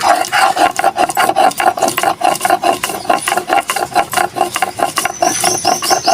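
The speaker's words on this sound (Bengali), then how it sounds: "আর জিরে এই তিনটে আমি বেটে দেব শুকনো লঙ্কা বাটবো" Dry cumin and dried red chilies ground into a paste for a potol (pointed gourd) paturi dish, a steady rhythmic rasping and scraping of repeated strokes, close and loud, with no talk.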